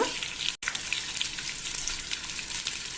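Green and dry chillies with peanuts and lentils fry in hot oil, giving a steady close crackling sizzle with faint stirring and a brief dropout partway through.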